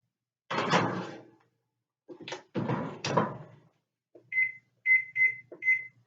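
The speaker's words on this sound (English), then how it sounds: "I am going to throw this in the oven and we'll cook it for 25 minutes" An oven set to 325 degrees is opened and a dish is slid in: a few clunks and rattling knocks of the door and rack, then a short series of four bright electronic beeps, close and clear.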